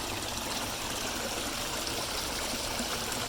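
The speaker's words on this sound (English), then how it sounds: "Got the sights and the sounds of the waterfalls." Waterfalls splash into a koi pond in a fish room, a steady, close, broadband rushing and trickling of falling water that carries on evenly without a break.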